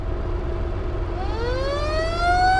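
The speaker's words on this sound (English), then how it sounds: "Has a custom siren and light bar." A custom siren on a video game Japanese police version of the Ibishu Chisai, a 660cc car, winds up and rises steadily in pitch over a constant engine-like hum, growing louder toward the end.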